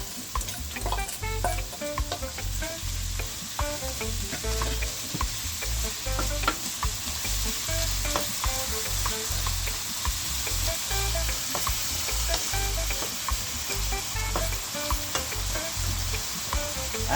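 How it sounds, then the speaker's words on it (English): Frozen vegetables sizzle and crackle steadily in a hot pan while being stirred for lasagna, a close, continuous frying hiss with scraping of the utensil throughout. "And now I'm gonna add my frozen vegetable."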